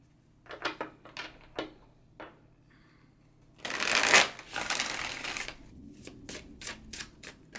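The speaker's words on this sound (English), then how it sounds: "So I am going to shuffle up these cards" Tarot cards riffle in short crisp bursts, then a longer loud shuffle, followed by quick light taps as the deck is squared and handled up close.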